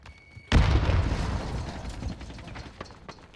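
An RPG rocket explodes in Call of Duty: Modern Warfare, a sudden loud boom that rumbles and decays while scattered crackles and gunshots continue around it.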